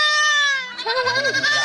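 A roughly two-week-old kid goat bleats on a family goat farm, one loud close cry that starts as a steady high tone and breaks into a wavering, quavering ending.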